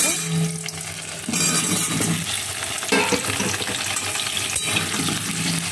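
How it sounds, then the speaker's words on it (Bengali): Potatoes fry in oil in a wok, a close, continuous crackling sizzle with stirring scrapes and shifting bursts as the pieces are added and moved. "এই আলুগুলো আস্তে আস্তে ভেজে নেব"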